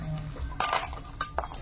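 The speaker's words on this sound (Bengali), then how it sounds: "কড়াইয়ে তেল আছে, একটু বড়ি ভেজে নিই।" Lentil dumplings (bori) frying in oil in a wok, a quiet sizzle broken by a few clinks of a utensil against the pan, close and brief.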